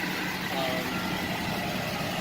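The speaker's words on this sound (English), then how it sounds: "It's got a straight pipe exhaust, so it's a little more loud, a little whistle going on." A diesel van on 35-inch tires with a straight-pipe exhaust idles close by, its steady loud rumble carrying a slight whistle throughout.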